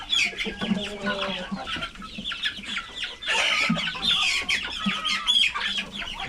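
Darag chickens, a native Filipino breed, clucking and squawking together in a farm yard, busy overlapping calls at close to mid distance with a few louder squawks.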